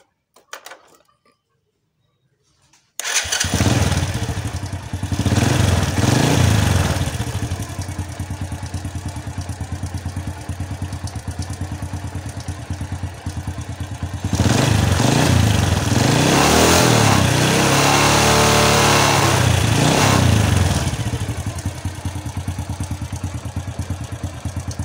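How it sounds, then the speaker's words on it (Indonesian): A motorcycle is started on its electric starter after near silence. The engine catches within a moment and settles into a loud, close idle, with two longer swells of revving before it drops back to a steady run. "Kita coba ulangi lagi, kita starter."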